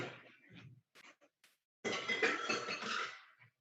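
Gluten-free noodles are stirred in a pan, with a few soft utensil taps followed by a longer, louder scraping and clattering against the pan.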